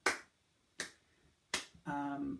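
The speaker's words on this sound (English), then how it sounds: "So first I recommend you practice this with clapping." Three single, sharp hand claps spaced evenly apart mark a steady beat during a guitar rhythm lesson, with a voice starting to speak right after the third.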